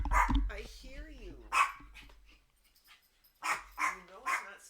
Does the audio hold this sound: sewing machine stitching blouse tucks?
no